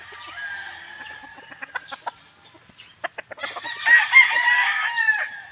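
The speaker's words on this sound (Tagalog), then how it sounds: "Napakaganda ng manok." A gamefowl rooster on a farm crows loudly and fairly close, preceded by scattered clucks and calls from other fowl around the yard.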